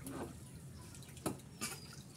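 A baby splashes and pours water in a bathtub, giving soft, scattered drips and two brief sharper splashes over quiet background, close and fairly faint.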